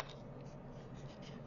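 Scissors cutting a paper shape out of a sheet, producing quiet, continuous rustling and scraping snips close by, faint and steady with no talking.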